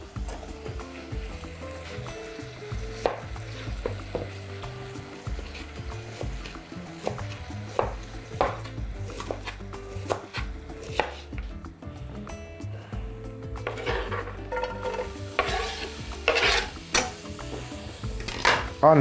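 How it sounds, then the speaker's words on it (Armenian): Sliced onions fry in a pan with a steady soft sizzle, broken by repeated scrapes and clacks of stirring over about twenty seconds, close and fairly loud. "Նույն տապակի մեջ սոխ ենք տապակելու"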